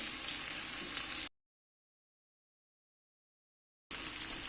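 Crushed garlic, salt, chili and peanut mix hits hot oil with fried cumin and mustard seeds, giving a steady close sizzle that cuts to silence midway, then resumes.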